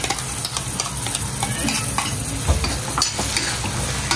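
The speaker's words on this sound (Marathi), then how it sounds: "याला पण आपल्याला छान भाजून घ्यायचं आहे" Raw green masala paste roasts with onions in a hot pan for a spicy prawn dish, giving a constant loud sizzle with repeated scraping strokes of a spatula stirring it, and no voices.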